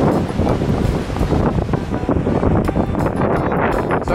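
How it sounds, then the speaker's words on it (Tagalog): Strong wind at Picnic Grove in Tagaytay buffets the microphone with a loud, steady roar and rumbling gusts that never let up, with no voices over it. "Sobrang lakas ng hangin dito"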